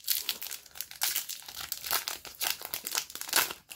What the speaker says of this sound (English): that pack is kind of difficult to open